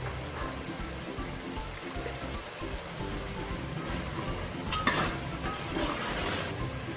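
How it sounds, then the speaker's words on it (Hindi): Mutton fries in a pot with whole spices like black cardamom and cinnamon, giving a steady close sizzle with occasional stirring scrapes and a brief metallic knock. "व्यूअर्स, गोश्त हमारा भून रहे हैं।"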